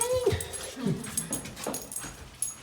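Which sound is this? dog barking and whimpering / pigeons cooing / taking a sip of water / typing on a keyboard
dog barking and whimpering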